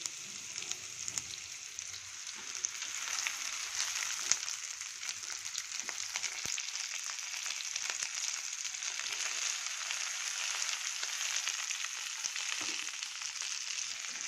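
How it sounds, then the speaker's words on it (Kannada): Onion, tomato and coriander fry in a hot pan, giving a steady, fairly loud sizzle that holds evenly throughout, with occasional faint stirring clicks and no voices. "ಈರುಳ್ಳಿ ಹಾಕಿದ್ದೀನಿ ಈರುಳ್ಳಿ ಕೂಡ ಫ್ರೈ ಆಗಬೇಕು ಚೆನ್ನಾಗಿ"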